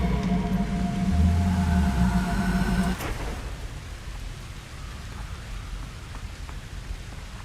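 Steady rain falling in the Hogwarts Legacy video game, a dense wash of patter that is loud at first over low game ambience, then drops to a softer, continuous hiss for the rest.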